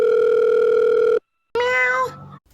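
A telephone dial tone hums steadily and loudly, cuts off into a short silence, then a brief warbling electronic phone signal sounds before fading out.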